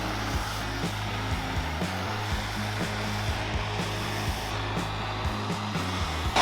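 A hot air tool blows steadily while heating chain links to free them from a gold nugget grill, a continuous close rushing hiss with a low throbbing undertone and no talk.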